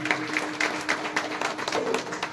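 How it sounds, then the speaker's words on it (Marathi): An audience at a kirtan claps together in a steady rhythmic pattern of loud hand claps, with some crowd murmur and a faint voice underneath. "जरा जोरात टाळ्या वाजवाव्या"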